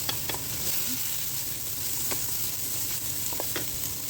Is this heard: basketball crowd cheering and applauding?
no